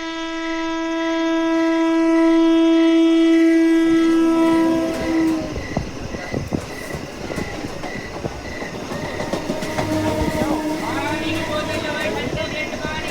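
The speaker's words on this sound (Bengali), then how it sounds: "ওই যে ট্রেন এসে গেছে" A train horn blares loudly and steadily for several seconds, then rumbling rail noise and clattering wagons take over as the train pulls in.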